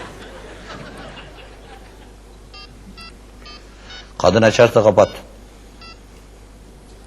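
A quick series of mobile phone keypad dialing tones, loud and close, following a few words of speech with quiet voices around.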